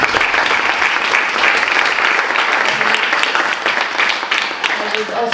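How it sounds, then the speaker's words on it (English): An audience applauds at the close of a panel discussion at an Armenian General Benevolent Union event in London, sustained and dense throughout with no voices. "If you can join me with a round of applause."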